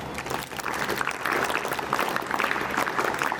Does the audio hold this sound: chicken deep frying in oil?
no